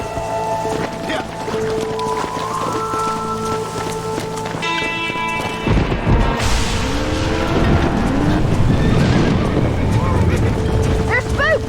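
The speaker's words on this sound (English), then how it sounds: "They're spooked! We have to stop them stampeding!" A herd of spooked horses stampedes in the video game Red Dead Redemption, a loud, dense rumble of running hooves swelling midway, with whinnying cries rising over steady game music and background noise.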